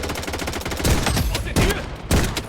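Enemy gunfire in the shooter game Blood Strike, loud rapid bursts of shots cracking repeatedly over a dense battlefield din, with a few heavier blasts standing out.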